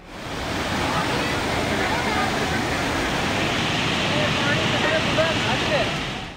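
Torrential floodwater rushes through overflowing storm drains after record rain in Islamabad, a loud, steady broadband roar like a waterfall that fills the whole stretch without a break.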